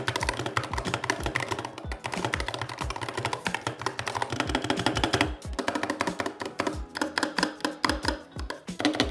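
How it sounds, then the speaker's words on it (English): Rapid, continuous typing on a Razer gaming keyboard with optical switches, dense fast clicks and clacks close up with brief pauses, no talking. "this keyboard has Razer's optical switches and it's relatively fast"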